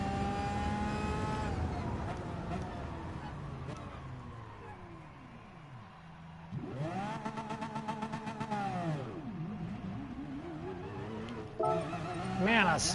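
A car in a Gran Turismo Sport quarter-mile drag race revs hard with rising and falling engine tones as its wheels spin, followed by a second surge of acceleration, heard under game audio at moderate volume.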